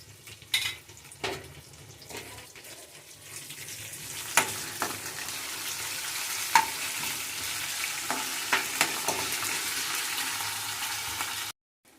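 Cumin, four dried red chillies, crushed garlic and ginger-garlic paste fry in hot oil for a banana pickle, giving a continuous sizzle punctuated by sharp spoon scrapes against the pan, close and without voices.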